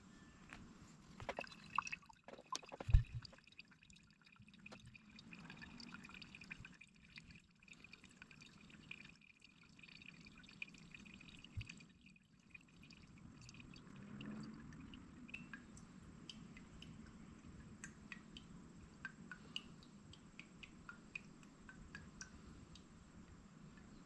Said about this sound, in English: Now I'm going to drain the other one.